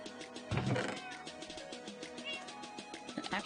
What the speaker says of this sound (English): Hello, kitty.